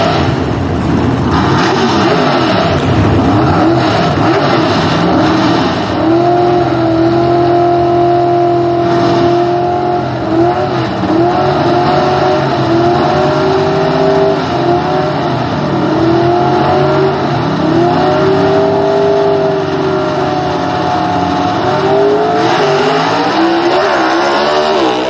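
A/Gas gasser drag race cars in the first round at a Southeast Gassers event in Knoxville: loud, sustained engine roar with rising revs and strained tones, steady and close throughout.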